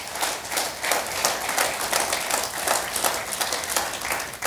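Congregation applause in an iglesia del Dios vivo church service, a dense steady patter of many hands clapping at moderate loudness with loose rhythmic surges, no voices standing out.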